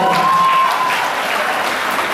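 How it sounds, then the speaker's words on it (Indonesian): An audience at a business and motivation seminar applauds, a dense continuous wash of clapping held at even loudness throughout, with a faint tone lingering briefly at the start. "tepuk tangan untuk Bu Lida"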